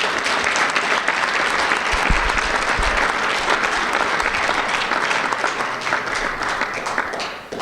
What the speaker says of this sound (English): So please thank our sponsors with applause as well.